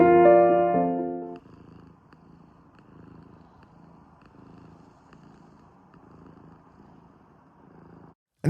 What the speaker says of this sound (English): here's our gorgeous rescue cat